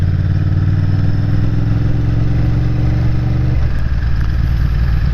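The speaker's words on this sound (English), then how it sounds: "riding through beautiful little places like this on this VTR, because it's not really a quiet motorbike" A Honda VTR motorcycle ridden through a quiet, leafy rural stretch of North Wales, its loud, steady engine drone rumbling low and constant, with the pitch shifting and note changing about two-thirds through as the rider changes gear.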